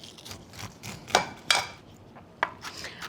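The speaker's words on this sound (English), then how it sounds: "I'm just finely chopping these finely chopped shallots." A few sharp knife taps on a cutting board with soft scraping between them as shallots are finely chopped, quiet and close, in an uneven rhythm.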